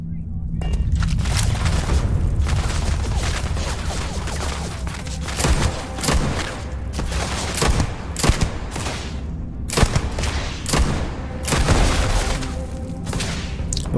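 Pistol gunfire in Starfield, a rapid series of sharp loud shots in irregular bursts over a dense rumbling battle background.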